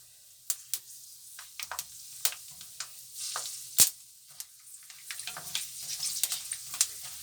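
Oil-free frying in a pan, with a quiet steady sizzle and scattered crackles and pops rising toward the end, fairly close and without talk.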